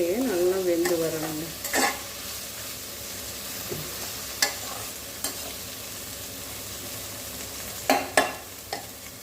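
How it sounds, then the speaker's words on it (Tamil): Bitter gourd sautéing in oil in a pan over a low flame, a soft continuous sizzle broken by intermittent spatula scrapes and stirring clatters, close by with no talking. "இப்போ இது சிம்மில் வச்சுக்க அப்படியே இது வதங்கி கொடுத்துட்டோம் நல்லா இந்த எண்ணெய்"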